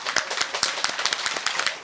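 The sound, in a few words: loud applause from the audience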